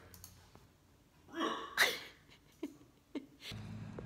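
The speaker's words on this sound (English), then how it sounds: "You ever hiccup before" A person hiccups several times in a quiet outdoor setting: a louder gulping catch near the middle, then two short sharp hiccups spaced apart, with soft breathing between them and no talking.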